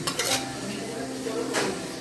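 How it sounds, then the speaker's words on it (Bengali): A pressure cooker holding browned mutton and water is set down on a stove burner at medium flame, giving a couple of loud metallic clanks and rattles at the start and again near the end. "প্রেশার কুকারটাকে বসিয়ে দেওয়া হলো মিডিয়াম ফ্লেমে"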